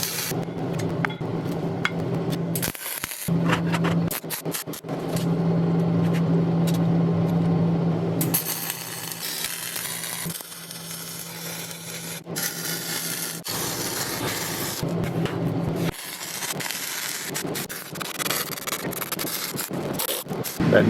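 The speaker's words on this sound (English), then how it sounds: "That noise you're hearing is that fume extractor." Fume extractor running at a welding station while bevelled steel is tacked and welded for an excavator rock hammer, a steady broad whooshing drone with intermittent clanks and scrapes alongside.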